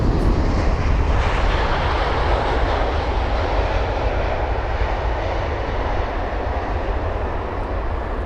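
Finnair Airbus A350 landing at London Heathrow, a loud, steady broadband jet roar that holds throughout with a slight fade near the end, heard alone.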